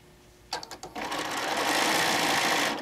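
A sewing machine basting a seam with a lengthened stitch, starting with a few quick separate stitches, then settling into a steady, close whirring run that stops abruptly after a couple of seconds.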